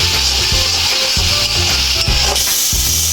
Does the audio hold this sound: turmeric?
yes